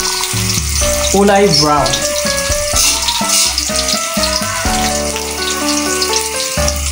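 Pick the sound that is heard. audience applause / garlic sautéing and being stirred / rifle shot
garlic sautéing and being stirred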